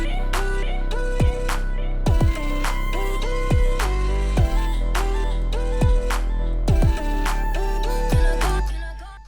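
An electronic kick and clap drum pattern loops in a steady groove, with deep pitched-down kicks including doubled hits and sharp claps over a sustained synth chord bed.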